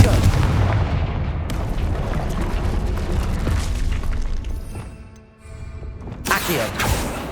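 Fiery spell blast from the Hogwarts Legacy video game, a loud, sustained booming roar with crackling that fades and then flares again near the end, with a voice over it.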